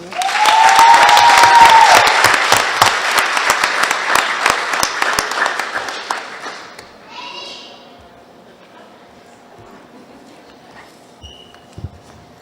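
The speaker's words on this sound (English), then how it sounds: "Let's give them another round of applause." Applause for students at a school board meeting honoring Centerville High School: a burst of clapping from the audience fills the room for several seconds, then thins out, leaving quiet room noise.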